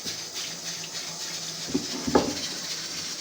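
Water being poured off soaked rice for biryani, a steady splashing flow with a couple of louder gushing spurts near the end, close by and without talk.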